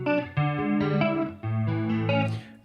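An electric guitar played through the chorus effect of a Line 6 Helix Stadium, with a few sustained chords rung out one after another, shimmering and close, with no talking.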